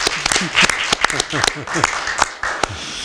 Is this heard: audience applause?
yes